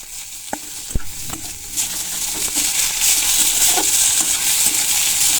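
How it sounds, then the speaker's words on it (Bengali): Dry chilli, ginger, garlic, onion and tomato fry in oil in a wok, building to a loud, continuous sizzle with sharp clinks and scrapes of stirring early on. "ওই কড়াইতে দিয়ে দেবো সাদা তেল এক চামচ একটা শুকনো লঙ্কা আদা রসুন কুচি পেঁয়াজ কুচি কুচি টমেটো কুচি"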